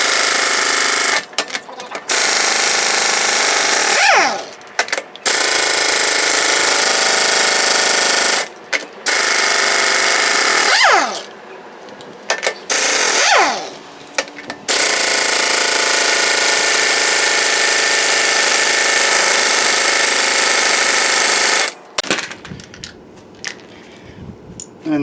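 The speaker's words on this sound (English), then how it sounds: "we'll take the lug nuts off then, and hopefully they'll come off without any problem" Pneumatic impact wrench zipping lug nuts off a 1997 Dodge Ram during a hub assembly replacement, loud sustained rattling bursts separated by brief pauses, several runs across the stretch with no talking.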